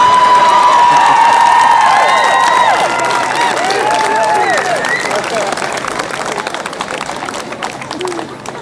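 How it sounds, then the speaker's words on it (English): Loud crowd at an abortion-rights rally cheering, whooping and applauding, with shrill whistles and shouts up front, the roar holding strong and then easing slightly toward the end. "Let's give a huge round of applause"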